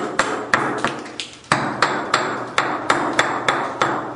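A slag hammer beats wood to distress it, giving about a dozen sharp, irregular knocks and thuds at close range, each with a brief scrape, and no voices.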